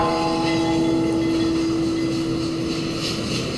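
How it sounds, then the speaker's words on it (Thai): A passing train in a music video, heard as a steady, loud rumbling roar with a sustained horn-like tone running through it and no voices. "อย่าบอกนะรถไฟ อ๋อ นึกว่าจะพุ่งผ่านเลย"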